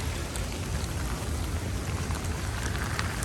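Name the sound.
heavy rain falling on a hiking trail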